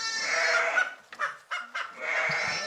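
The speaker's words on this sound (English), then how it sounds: "Oh, yep, that was one sheep." Sheep bleating in a sheep-counting game, several loud close bleats in two long calls broken by shorter bursts, with no talk.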